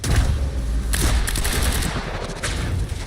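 Rapid bursts of gunfire and sniper shots crackle loudly in the Quantum Break video game, a dense fusillade of overlapping cracks and booms spread across a few seconds of combat.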